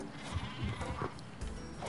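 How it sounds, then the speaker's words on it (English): Sheep in the Worms Revolution game bleat in short, wavering bursts within a busy, noisy game soundscape. "The sheep just explode."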